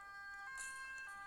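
A wailing ambulance siren from a video game sounds faintly and steadily for a brief moment, with no talking.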